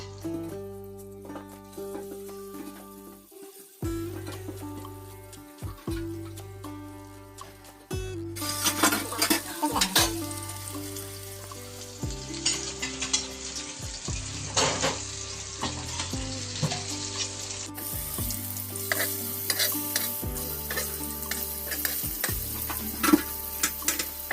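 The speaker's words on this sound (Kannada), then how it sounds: "ಫಿಶ್ನ ಸಣ್ಣ ಉರಿಯಲ್ಲಿ ಫ್ರೈ ಮಾಡಬೇಕು" Fish frying in oil on a tawa over a low flame, a steady, fairly close sizzle that continues under loud tonal background music, with no speech.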